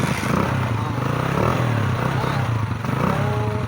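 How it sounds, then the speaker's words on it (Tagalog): A motorcycle engine starts and then runs steadily nearby, with a continuous throbbing rumble and some mechanical clatter throughout. "Paminaw nimo nga mandar na ma'am."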